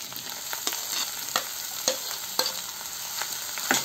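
Okra and tomato fry in a pan with a soft sizzle, punctuated by several sharp spatula scrapes and clicks as it is stirred, close but fairly quiet, no voices.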